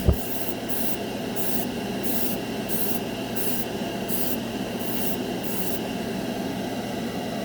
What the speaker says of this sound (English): The airbrush is really smooth.